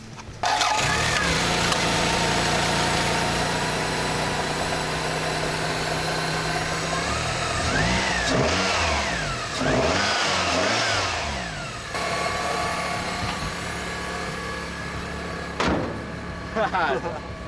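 Holden Apollo car engine cranking into life, then revving up and down in several rising and falling surges before settling, close by, with people talking over it.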